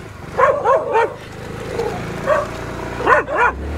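Dogs in Pattaya bark in quick pairs and short bursts while chasing, close by, with a low engine hum running underneath.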